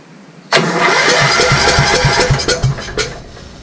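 An old Goodall Chargall engine that had sat abandoned in a field for years cranks and then catches, followed by a loud, uneven mid-pitched run with rhythmic chugging and sputters.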